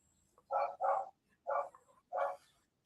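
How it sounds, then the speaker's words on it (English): A small dog gives four sharp barks in uneven succession, two close together, then two more spaced apart, fairly near and clear against a quiet background. "He barked like that for the last 2 days."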